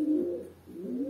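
A racing pigeon back at its loft after a race coos in two low, rolling phrases, close and clear with no talk over it.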